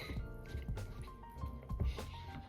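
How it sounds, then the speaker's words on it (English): A spoon stirs a pot of creamy broth, giving close, wet squishing and dripping liquid sounds that run steadily throughout with soft swells. "let's give us a good stir"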